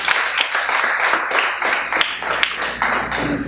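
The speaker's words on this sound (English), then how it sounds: "Let's give the Lord a clap of praise." A church congregation claps in praise, a dense, steady burst of many hands with a few sharper individual claps standing out, close and continuous throughout.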